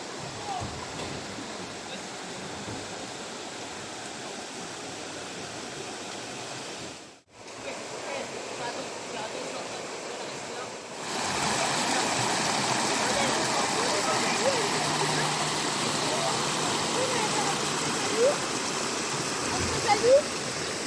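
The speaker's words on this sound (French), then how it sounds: "cascade." A waterfall near Lac Sainte-Suzanne on a hiking trail gives a steady broadband rush, moderate at first, briefly cut, then louder and fuller after about eleven seconds, continuous with no talk.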